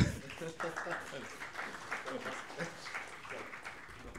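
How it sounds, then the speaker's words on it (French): Applause from an audience at a developer conference, scattered clapping under talk from people nearby. "On applaudit bien fort."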